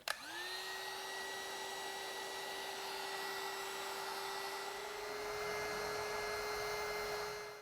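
A heat gun melts solder sleeves over soldered wire connections on a motorcycle, giving a steady whirring blower hum with a strong tonal whine that starts abruptly and holds constant, close and alone.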